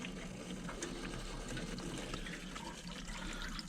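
Air is sucked into a plumbing expansion vessel through a slightly cracked valve as water drains out, making a steady, soft hiss and gurgle.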